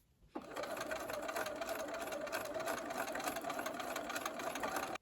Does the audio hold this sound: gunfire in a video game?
no